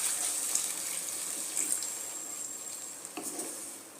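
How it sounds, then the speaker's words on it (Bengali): Water poured into a pan of eggplant curry (dahi begun) cooking over a medium flame, a steady close hiss and sizzle with faint splashing and a brief stir near the end. "এর মধ্যে এবার একটু জল দিয়ে দেবো"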